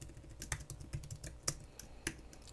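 Typing on a computer keyboard, a run of irregular close clicks and key taps, some sharper keystrokes standing out, fairly quiet with no talking.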